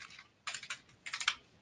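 Keys on a computer keyboard tapped in two short bursts of a few quick strokes each, with a brief pause between them, close and fairly quiet.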